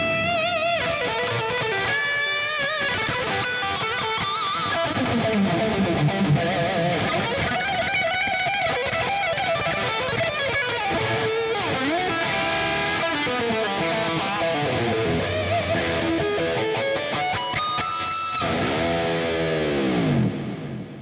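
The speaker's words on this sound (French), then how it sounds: "Et là, on a un son distorsion qui fracasse." An electric guitar played through a Line 6 Pod Express with a crushing distortion tone and big reverb, sustained chords and lead runs ringing continuously and loud, ending with a bending note.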